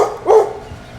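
A single short dog bark rings out nearby, loud and abrupt, over a low background hum.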